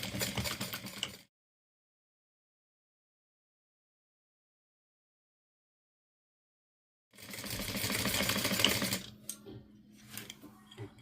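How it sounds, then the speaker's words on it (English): A sewing machine runs close by, stitching a quarter-inch seam around a fabric flap, in two brisk bursts of rapid needle chatter separated by a long silent pause, with a brief trailing rattle at the end. "I am going to sew at a 1/4 inch all the way around."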